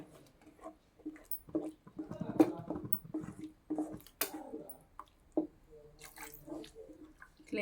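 A glass of water tips into a pan of simmering egg masala gravy, giving a short run of drips, splashes and wet squishing sounds that come in uneven bursts close by, with no talking.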